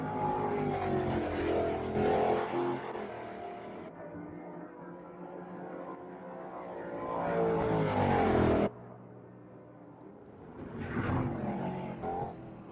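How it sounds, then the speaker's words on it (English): Race cars roar through a night race in a sim racing video game, engines surging and fading as they pass, with rising revs, a sudden cut, and renewed acceleration, no voices. "our cars come roaring down in the night"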